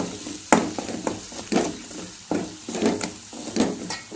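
Masala sautéed in a pan for a Marathi-style jackfruit curry, a spoon scraping the pan in repeated strokes about once a second over a continuous close sizzle of frying spices.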